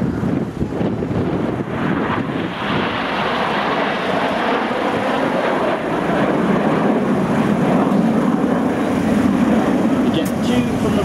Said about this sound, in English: the aircraft on the wings will drop back to form our largest formation shape, Concorde